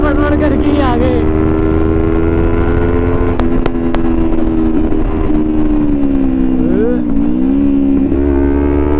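Jawa motorcycle engine running steadily while riding, a loud continuous drone with slight shifts in pitch as the throttle changes, under brief voices.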